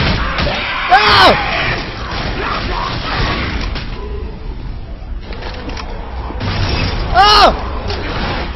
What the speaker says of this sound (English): Dude, explosion!